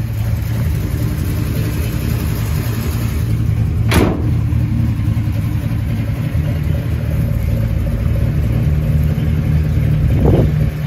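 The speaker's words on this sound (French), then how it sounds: "vous pouvez avec une télécommande ouvrir des clapets pour monter le bruit du véhicule" 1964 Mercury Marauder coupe engine with the exhaust flaps open, a loud deep steady rumble close by, with two short rev blips standing out from it.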